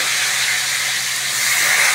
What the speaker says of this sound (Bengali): আলু পেঁয়াজটা ভাজবো ভালো করে